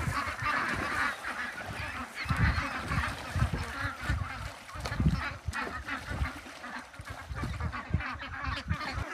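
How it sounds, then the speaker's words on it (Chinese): A large flock of about a hundred farm ducks quacks and honks continuously in a dense, overlapping chorus, close and loud throughout. "啊，跑这么多鸭子吗？"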